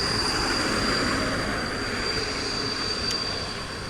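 A passenger train rolls along the rails at a Warsaw station, a steady broad rumble with a faint high whine, loud and close, slowly easing off toward the end with no talk over it.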